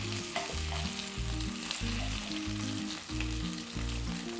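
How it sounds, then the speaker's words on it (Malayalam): Chicken pieces sizzle and fry steadily in a hot pan for a chicken vegetable pulao, with a dense crackling hiss and occasional clinks or stirring sounds, no talking. "ഇനി ഇത് മറിച്ചിട്ടിട്ട് അപ്പുറത്തെ സൈഡും കൂടെ ഇതുപോലെ മൂപ്പിക്കാം."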